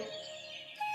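Birds call faintly beside a quiet village river in a cartoon, with soft chirps over a gentle background and a brief brighter note near the end.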